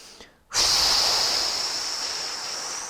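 A long, steady breathy exhalation through pursed lips begins abruptly after a brief quiet moment, hissing on loudly and slowly easing off.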